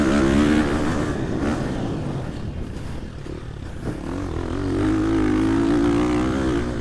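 A 2023 Husqvarna FC 350 dirt bike engine lugging at low revs, giving a steady, loud, throaty drone that dips slightly midway and then swells again, heard up close while riding.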